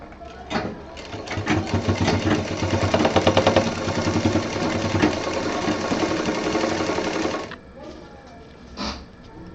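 A sewing machine stitches a belt onto a handbag, running in a loud continuous rattling whir for about seven seconds before stopping, then a few faint clicks and handling sounds.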